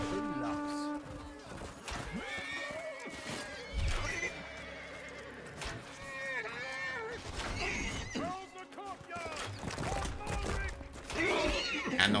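Horses neigh and whinny in a video game battle, several loud whinnies with hoof clip-clop scattered through busy combat noise.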